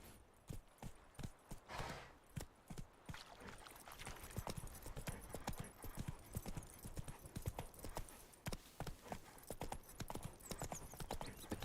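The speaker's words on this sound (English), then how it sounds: "Get over here, you stupid horse." In The Witcher 3 game, a horse's hooves clip-clop in a steady rhythmic trot that starts sparse and becomes continuous, crisp and close, with a brief whinny-like sound early on.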